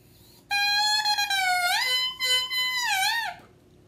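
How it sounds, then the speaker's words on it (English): A bare oboe double reed blown alone gives a bright, buzzy squawk that slides and wavers in pitch, lasting about three seconds with a short break, then ends abruptly. "This is a double reed, and it can sound like this."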